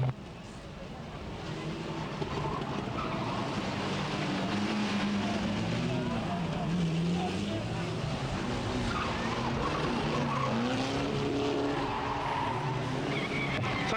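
Race cars at Bovingdon Raceway, one spinning round on the track, heard as a sustained engine roar with wavering pitch and tire noise, moderately distant and fairly steady over fourteen seconds, under faint commentary.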